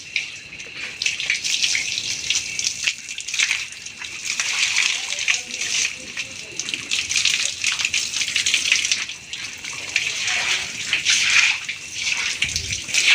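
Water gushes and splashes continuously nearby, sloshing and spattering as a buffalo is washed down with rainwater, with voices faintly underneath.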